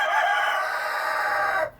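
A farmyard rooster crows one long, loud, close call that holds steady and then cuts off sharply near the end, with nothing else around it.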